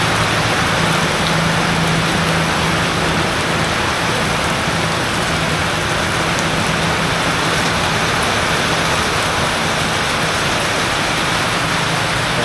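Loud, dense rain hisses continuously and evenly, with a faint low hum beneath it and no voices.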